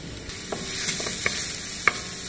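Garlic, ginger and onion sautéing in hot oil in a wok, giving a continuous close sizzle with a few sharp crackles and pops scattered across it, and no talking.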